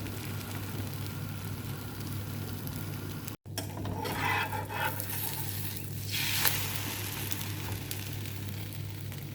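Eggs frying in a little oil on a small pan for chicken Indomie, a steady close sizzle with a brief dropout and a few faint scraping stirs.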